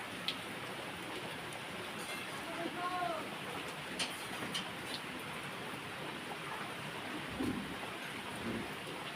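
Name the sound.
rain falling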